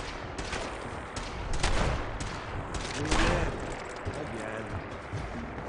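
Laser pistol fire in the Fallout 4 video game, several sharp bursts amid busy combat noise, with someone talking over the shots.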